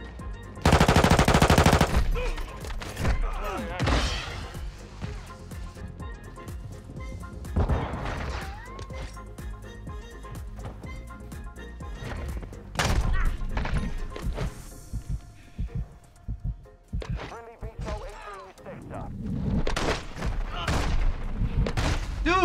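Gunfire in Modern Warfare 2 during an Invasion Ground War match, heard as repeated bursts of automatic fire and single shots, a loud burst at the start and scattered volleys later, with a voice talking in places.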